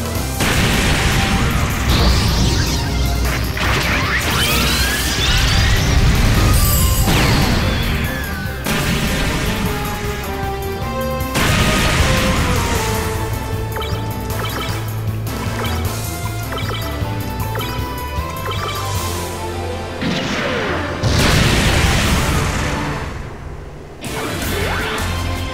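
Repeated bursts of crashing and booming explosions ring out as enemies are shot in the video game MS Saga, loud blasts layered over busy game music and effects throughout.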